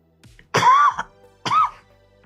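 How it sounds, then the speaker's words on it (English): Two separate coughs, harsh and throaty, sound close by, about a second apart with quiet between them. "Excuse my cough."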